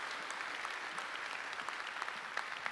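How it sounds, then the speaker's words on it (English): Audience applause for a representative at a civic leadership event, a continuous wash of many hands clapping that stays fairly soft and distant throughout, with no voices over it. "big round of applause."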